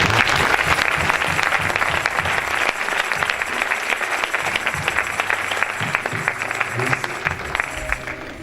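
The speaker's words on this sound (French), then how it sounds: "Est-ce qu'on peut acclamer le Seigneur?" A church congregation applauds to acclaim the Lord, with loud, dense clapping from many people that holds steady throughout and is joined by faint crowd voices.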